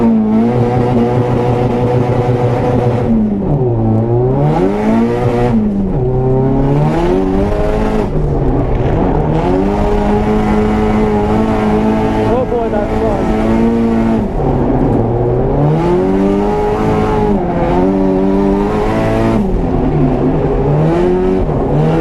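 A 400 hp SR20-powered car drifts around a banked track, its engine loud and close, revving up and down in repeated sweeping surges with no talk over it.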